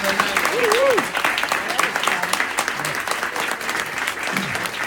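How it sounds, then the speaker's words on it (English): An audience at Manny's in 2024 gives a round of applause after a political interview, steady crowd clapping with cheering and voices talking over it throughout. "Let's give a round of applause to Joe and Joe."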